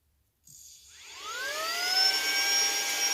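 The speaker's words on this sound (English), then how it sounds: "let's try to hold it for 3 seconds and it will bring it up on low" A Saker cordless handheld vacuum cleaner switches on at its low setting, a whirring motor tone rising in pitch as it spins up and then holding a steady, moderately loud whine.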